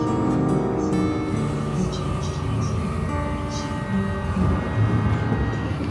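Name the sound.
train passing in Bangkok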